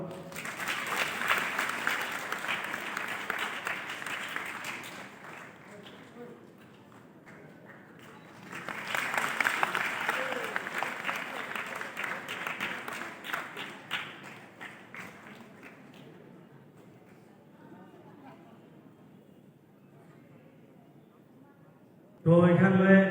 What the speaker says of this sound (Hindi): इसलिए जोरदार ताली मारो।